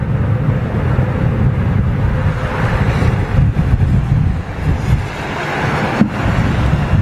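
An airliner's reverse thrust roars loudly on landing at London Heathrow Airport in a crosswind, a sustained, broad rush with gusty rumbling.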